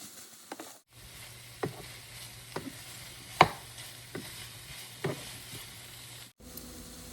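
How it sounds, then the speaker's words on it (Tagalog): Beef and pork being stirred in a pot, a series of soft, evenly spaced scrapes and knocks over a low bubbling sizzle, close and fairly quiet. "halo-haluin na natin yung mga meat"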